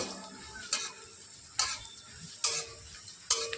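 Garlic and green chillies frying in oil, a soft steady sizzle broken by four evenly spaced scrapes of a spatula stirring the pan.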